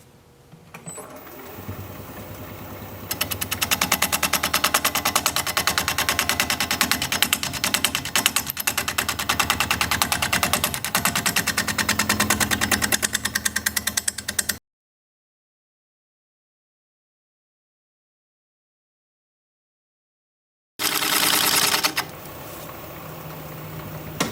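A wood lathe spins a bowl roughed from a stump at 580 RPM, giving a loud, steady whirring chatter as the tool cuts. It stops abruptly into silence, then starts up again briefly near the end.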